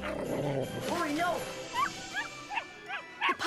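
Golden retriever puppies whimpering and yipping in a run of short, rising cries under an ongoing voice, with a few sharper barks near the end.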